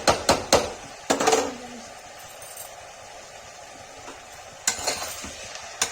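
Spices are sautéed in a pan for a Kashmiri-style bean and potato curry, with a few sharp spoon scrapes and clinks over a faint, low sizzle, then more stirring knocks near the end.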